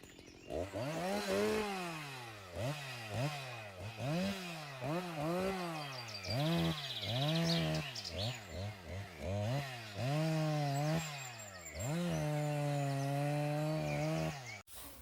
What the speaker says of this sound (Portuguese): eu vou até deixar um trechozinho aí do som da motosserra tocando